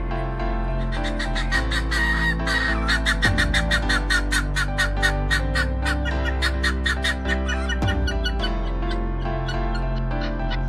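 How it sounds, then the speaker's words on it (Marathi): Turkey hens on a farm call in a dense, busy chorus of repeated clucks and gobbling notes, loud and close, running throughout with other fowl sounds mixed in and no talking. "तुम्हाला दाखवणार आहे टर्की कोंबड्या."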